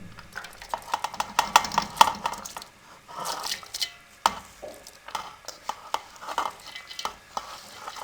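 A kilo of grated carrots tipped into a pot and stirred for gajar ki kheer, giving scraping, clattering stirring strokes in an uneven rhythm, close and moderately quiet, with no talking.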